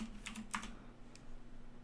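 A handful of quick, faint keystrokes on a computer keyboard while typing into game chat, clustered in a short burst with one lone tap after, over a quiet background hum.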